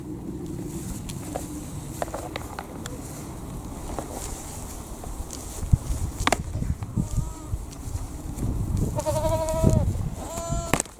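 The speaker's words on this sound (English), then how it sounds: "here come the sheep." Sheep or goats in a suburban backyard smallholding bleat several times near the end, short wavering calls over a bed of rustling and outdoor background noise.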